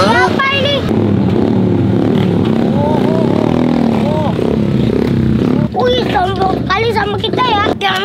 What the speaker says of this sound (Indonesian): Berani-beraninya dia di depan kita geber-geber